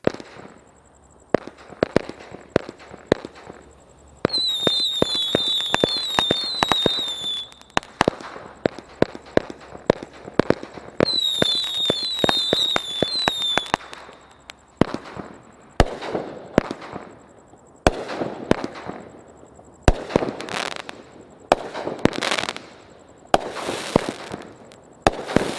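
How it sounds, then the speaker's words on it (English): A Brothers Bling Bling 200 gram fireworks cake fires outdoors, sending a long, loud run of sharp shot bursts with whistling, crackling tails, rapid volleys separated by brief pauses and ending in several heavy single booms. "Let's just go ahead and show you a true up to 200 gram cake right now."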